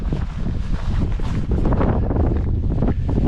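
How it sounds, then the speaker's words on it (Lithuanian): Strong wind roars steadily and loudly across a microphone on a crumbling, steep slope of Snowdon, buffeting gusts filling the whole stretch with dense rumbling noise. "vėjas dabar kaip pučia labai stiprus iš tikro"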